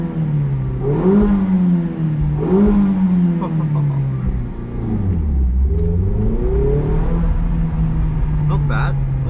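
A Mazda MX-5 ND with a 400-euro aftermarket exhaust and 132 horsepower revs up and settles back several times, its engine note rising and falling in loud, close sweeps.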